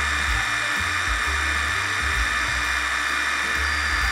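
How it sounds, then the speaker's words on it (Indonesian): Yasuka YIW 500CB cordless brushless impact wrench spinning at its highest speed setting, a steady high whine with rumbling low pulses, close and continuous with no talk. "Kemudian kita ke speed yang paling tinggi, speed 3. Kita lihat berapa RPM-nya."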